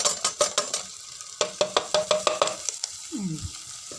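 Masala being stirred and fried in a pan with a spatula, a run of sharp scraping strokes in bursts over a soft sizzle, ending in a brief squeaky scrape.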